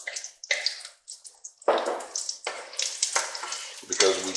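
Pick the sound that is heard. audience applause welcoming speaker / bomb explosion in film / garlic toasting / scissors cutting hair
garlic toasting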